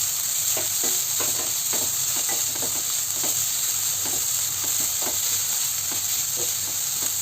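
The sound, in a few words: stirring grated coconut into spinach dal thoran in pan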